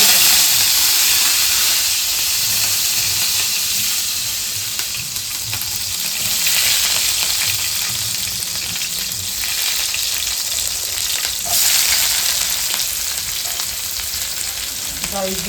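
Onion, curry leaves, mustard seeds and cumin fry in hot oil with a loud, continuous sizzle and hiss that rises and falls a little, with occasional stirring and faint background voices.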